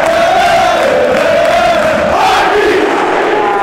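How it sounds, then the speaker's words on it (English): Hibernian football crowd singing and roaring at Easter Road during an Edinburgh derby, a loud, massed chorus of thousands of voices rising and falling together, close and overwhelming throughout. "Once we come out on that pitch, that's it, and the crowd, you'll just hear it today"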